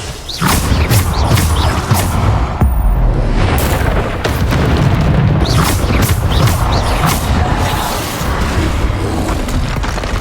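Bombarda spell blasts in a video game duel, a dense run of loud booming explosions and crashing impacts that fill the scene almost without pause.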